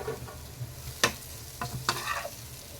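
Potatoes fry for potato varuval under a low, steady sizzle, broken by several sharp scraping clatters from a spatula stirring against the pan, close and without speech.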